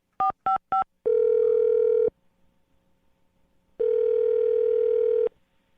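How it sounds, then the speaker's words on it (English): Three quick telephone keypad tones sound, followed by two long steady ringback-style tones separated by a silent gap, clean and close with no talking. "I'm going to dial his phone number right now, get him on the phone"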